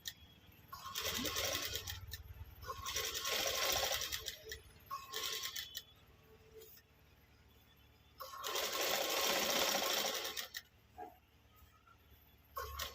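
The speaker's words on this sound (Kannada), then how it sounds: "ಫಾಲ್ಸ್ನ ಈಸಿಯಾಗಿ ನೀವು ಆರಾಮಾಗಿ ಸ್ಟಿಚ್ ಮಾಡ್ಕೊಂಡು" A sewing machine stitches a fall onto a saree in four separate bursts of fast, close clattering whir, with quiet gaps between runs.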